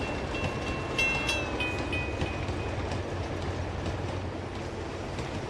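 Steady rumble of a moving train in Uncharted 2, with continuous rolling wheel noise, faint clickety-clack and a few brief high metallic squeals, heard at even loudness throughout with no talk.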